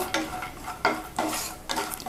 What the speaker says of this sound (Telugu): ఈ కాజుని లైట్గా వేయించుకోవాలి